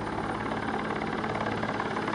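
Continuous, steady thrum of a Swiss Air Force Super Puma helicopter engine and rotor, moderately loud and unchanging throughout.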